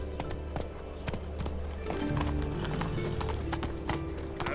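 A horse from The Witcher 3 gallops with rapid, rhythmic clip-clop hoofbeats and a brief whinny, close and loud beside a game soundtrack.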